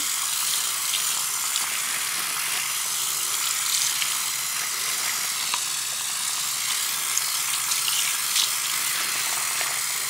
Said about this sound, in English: just get the sink really well and around the drain. And rinse out with scrubby.